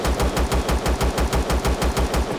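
Rapid automatic gunfire from a minigun in the video game Empyrion during a missile silo raid, a steady fast rhythm of loud, close shots running for a couple of seconds with no talk.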